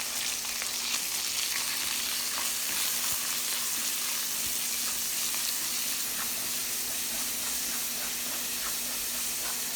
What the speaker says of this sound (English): Add the minced pork and stir fry.